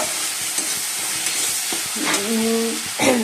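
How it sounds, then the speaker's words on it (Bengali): A spice paste of onion, garlic, ginger, ground spices and tomato is sautéed in a wok, with a steady sizzle, scattered spatula scrapes, and a few ringing metallic clanks near the end. "এই যে বন্ধুরা মশলাটা কষে নিচ্ছি।"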